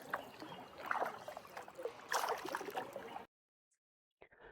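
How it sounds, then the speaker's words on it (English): A kayak paddles through rock cutouts in Ha Long Bay, with close splashes and trickling water from paddle strokes for about three seconds, then near silence and a faint drip. "an early morning kayak right after breakfast"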